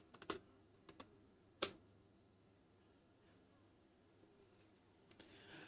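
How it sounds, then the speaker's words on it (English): Quiet keystrokes on a computer keyboard as a command is typed, a few sharp clicks in a short burst, then a lone louder tap and scattered faint taps over a soft room hum. "Let me type in the raid command."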